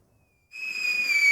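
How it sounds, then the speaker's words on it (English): An audio drama firework effect opens with a brief silence, then a sharp, rising whistle kicks in and holds loudly to the end; no crack or boom is heard. "The fireworks thunder a crack."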